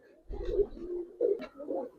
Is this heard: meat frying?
no